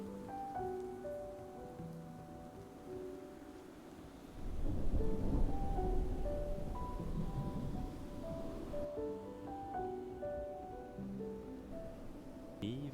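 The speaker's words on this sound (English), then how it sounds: "there is such a heavy downpour outside" Heavy rain in Minecraft, a dense hissing downpour with low thunder-like rumble swelling midway, playing continuously beneath soft in-game music tones.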